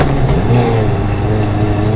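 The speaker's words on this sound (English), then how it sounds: "I am full throttle with this engine" A tiny car engine in the driving game BeamNG.drive is held at full throttle in third gear, producing a loud, strained, steady drone throughout.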